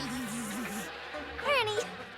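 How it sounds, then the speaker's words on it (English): Cartoon bees in the animated show My Little Pony: Friendship Is Magic make a close, wavering buzz that drones for under a second, then a quick high chirping sweep follows over quiet background. "Oh, you've all been busy little bees"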